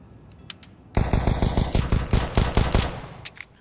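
Rapid pistol fire traded during an eco round in a professional Counter-Strike match, a burst of about a dozen loud, sharp shots in quick succession after a quiet start, with a few fainter shots trailing off.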